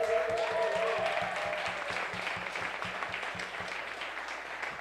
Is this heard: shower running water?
no